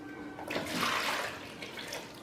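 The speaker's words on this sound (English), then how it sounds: "now put your water in the bowl" Warm water, about two cups, poured into a mixing bowl for sourdough in a home kitchen, a steady splashing pour that swells and then tapers off over a couple of seconds, close by and alone.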